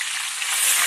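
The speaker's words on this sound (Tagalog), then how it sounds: "Papalisikan yung mantika." Cooking oil heating in a pan gives a steady, bright hiss of sizzling that swells slightly toward the end, close and continuous, with no talking.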